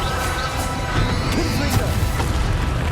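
A spell being cast in Hogwarts Legacy: a sharp crashing, thwacking magical burst with a few cracks over dense, continuous game sound effects, loud and close throughout.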